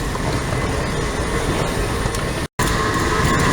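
A subway train rumbles loudly and steadily through an underground metro station in Washington, DC, with a brief dropout, then the roar continues with a faint high squeal.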